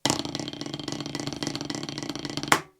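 Snare drum buzz roll played as a multiple-bounce roll, a dense continuous sustained buzz of pressed strokes that holds steady, then ends with a louder accented stroke and a quick decay.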